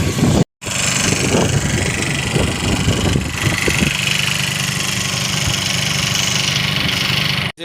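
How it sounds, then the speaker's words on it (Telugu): A water pump motor hums and rattles steadily throughout, loud and close, after a brief cut at the start, with no talking over it. "సడన్గా మళ్ళీ మోటార్ వేసుకుని పడ్డాను"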